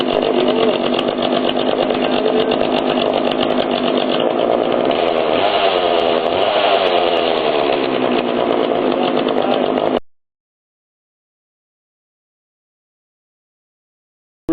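A chainsaw runs during a test after clutch and oil pump repair, a loud steady high-revving engine drone for about ten seconds with slight pitch shifts, then cutting off abruptly to silence.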